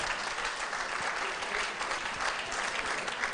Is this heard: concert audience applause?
yes